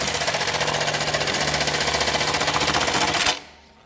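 A Consew CM1900HS sewing machine with pneumatic tension stitches at speed with heavy 207 thread, a loud rapid mechanical rattle of even, fast repeats that runs for about three seconds, then stops abruptly.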